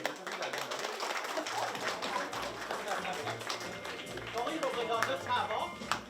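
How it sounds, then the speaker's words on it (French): Audience applause rises in a community gathering, scattered hand claps forming a moderately loud patter with a tapping quality, overlapped throughout by people talking nearby. "sous vos applaudissements, mesdames et messieurs"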